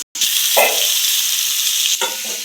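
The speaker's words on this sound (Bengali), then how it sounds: "তারপর আমরা কিছুটা ধনেপাতা দিয়ে দিচ্ছি, দিয়ে ভালোভাবে নেড়ে নেব।" Fried potato and cauliflower with fresh coriander being stirred in a hot pan, a steady loud sizzle broken by a few scraping stirs of the spoon, close up with no talk.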